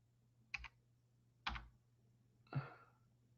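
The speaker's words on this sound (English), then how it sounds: "I'm trying to type something in" Three separate bursts of keystrokes on a computer keyboard, spaced about a second apart, each a quick cluster of clicks close to the mic in an otherwise quiet room.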